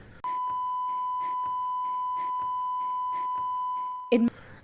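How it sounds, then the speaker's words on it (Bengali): A steady electronic test tone plays from a mobile phone inside an empty box, holding one constant pitch for about four seconds before cutting off abruptly, with a person talking over it. "একটা খালি বক্সের ভিতরে একটা মোবাইল রেখে আমরা একটা সার্টেন সাউন্ড ক্রিয়েট করলাম মোবাইল থেকে"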